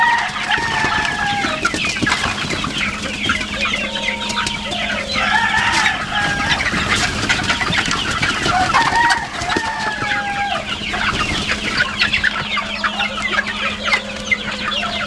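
Free-ranging golden chickens feeding together on a farm, with repeated clucks and chatter from several birds, nearby and fairly loud, over a steady low background hum.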